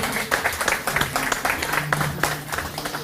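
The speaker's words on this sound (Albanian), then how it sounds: "besoj që nuk është shumë nëse e kërkoj edhe një duartrokitje shumë të fortë" An audience gives loud, sustained applause for the sponsors at a Kanal10 event, with dense overlapping claps filling the whole moment.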